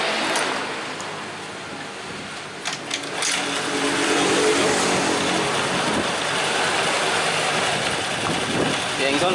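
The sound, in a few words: Honda Vario 110 carburetor scooter engine kick-started and idling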